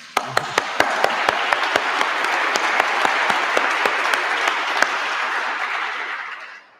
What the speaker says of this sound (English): we can applaud after each one